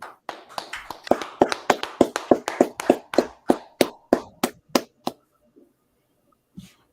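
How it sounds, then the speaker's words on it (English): A quick burst of sharp, evenly spaced claps that gradually slows and thins out before stopping, followed by one faint sound. "Clap it up."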